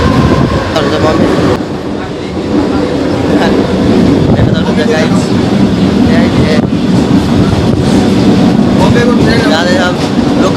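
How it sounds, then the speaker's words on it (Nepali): A Mumbai local train rumbles steadily throughout with a dense, continuous roar and faint rhythmic clatter, loud and close as if heard from inside a carriage. "लोकल ट्रेन हो बम्बईको"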